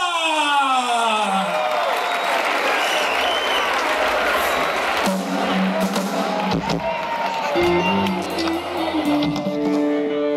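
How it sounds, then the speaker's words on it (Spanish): A rock concert crowd claps and cheers loudly and continuously, a dense wash of applause with whoops, while sustained music notes ring out beneath and rise near the end. "¡Fuerte el aplauso con ustedes!"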